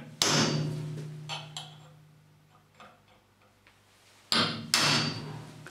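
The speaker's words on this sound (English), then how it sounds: "I'm now going to centre punch each of the holes" Sharp metallic hammer strikes on a centre punch into stainless steel ring out, one early, then two close together near the end, with softer taps and fading ring between.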